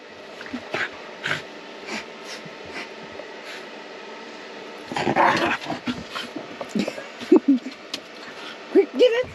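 A dog growls and snorts while tugging at a toy chicken inside a caravan, quiet at first, then bursts of close, rough growls and grunts in the second half, with a person talking softly at times.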